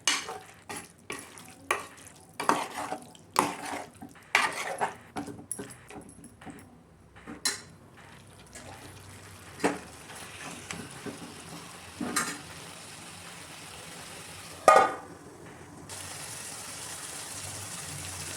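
Mutton curry with coconut powder and tomato is stirred in a hot pan, making repeated scraping, clinking strokes over a gentle sizzle. The stirring thins out into quieter frying, with a final clatter near the end and no speech.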